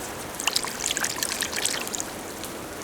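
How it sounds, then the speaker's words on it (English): Water trickles and splashes as a mudlarking find from the River Thames is rinsed in river water, a close, steady flowing wash with small splashy bursts. "Let's give her a little rinse in here."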